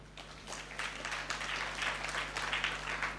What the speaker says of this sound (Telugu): చప్పట్లు కొట్టుకోండి